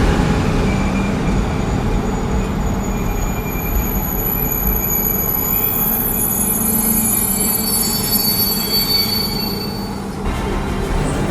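A train brakes to a halt after its emergency chain is pulled: a loud, steady rolling roar with high metallic wheel squeals ringing over it.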